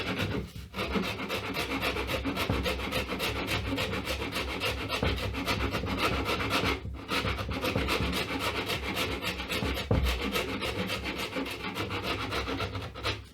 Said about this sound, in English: this is where we cut with the jigsaw